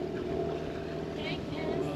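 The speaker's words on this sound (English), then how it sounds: "We are speeding up, full throttle towards land." A sailboat's motor at full throttle heading toward land, a steady low engine drone with water rush and wind noise filling the whole stretch, close and continuous and with no break.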